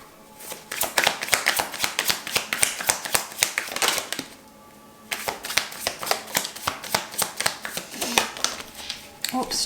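Tarot cards riffle and slap in rapid bursts of crisp flicks. One run stops briefly before the shuffling resumes close to the mic.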